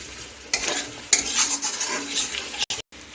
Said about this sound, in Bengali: এখন টমেটোকে দিয়ে আমি কিছুক্ষণ একটু কষিয়ে নিচ্ছি এক মিনিটের মতো কষিয়ে নিচ্ছি